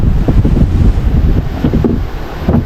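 Strong typhoon wind gusting beside a river during Typhoon Kristine, loud continuous rumbling buffeting with uneven gusts battering the microphone.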